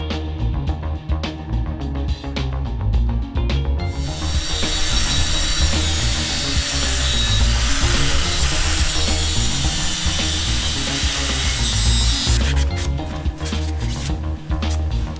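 A tool cuts through a metal headlight mounting bracket on a Honda CB500 motorcycle, giving a loud continuous grinding, rasping roar that dominates the whole stretch with mechanical rattling underneath.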